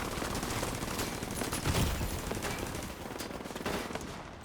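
Sniper turret fire in a video game: a loud, dense, continuous barrage of sharp gunshot cracks and booms with no pauses, steady throughout.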